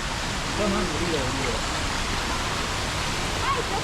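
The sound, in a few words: artificial waterfall in Singapore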